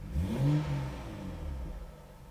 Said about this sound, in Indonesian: Kalau kita kasih ke off, nah, suara knalpotnya langsung seperti standar.